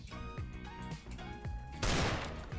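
A gun fires in Roblox Strucid, with rapid gunfire building under a rhythmic game soundtrack and a sudden loud, noisy burst near the end of the short clip.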